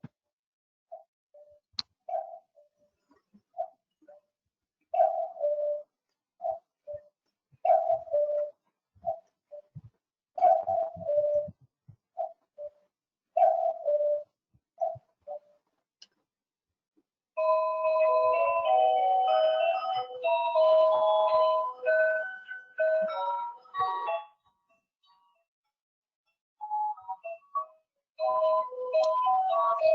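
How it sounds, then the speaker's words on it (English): A cuckoo clock chimes the hour in a room: a series of clear two-note cuckoo calls, spaced and repeating, followed by a brief melodic tune of bright tones, then more cuckoos, heard alone without talk. "That's the cuckoo watch that goes every hour."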